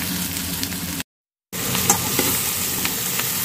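Taki fish hits hot oil over browning onions in a pan, a steady sizzle with small crackles and spatters, briefly cut by a silent gap before the frying resumes.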